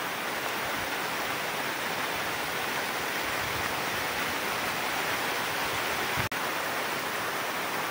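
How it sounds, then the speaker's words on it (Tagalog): Heavy rain pours down in a steady, dense, unbroken hiss that stays close and loud throughout, with one brief sharp tap near the end and no voices. "Lakas ng ulan."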